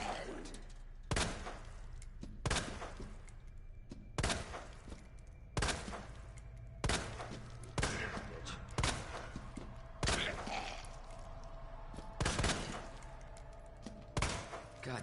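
Gunshots fired at a zombie in Resident Evil 2 (2019) ring out in a slow series of about ten sharp, loud reports spaced a second or two apart, each with a short reverberant tail, inside an underground parking garage.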